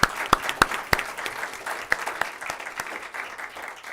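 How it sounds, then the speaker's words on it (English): A board meeting audience gives a round of applause: sparse, distinct claps from a small group with a few sharper close ones, fairly quiet and thinning out over a few seconds. "I think we need to give them a round of applause."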